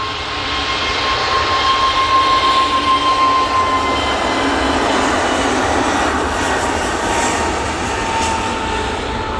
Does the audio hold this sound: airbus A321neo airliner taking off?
yes